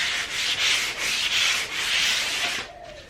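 A cloth rubs wood stain onto a furniture piece along the grain in several steady back-and-forth strokes, a close, soft swishing scrub with no speech.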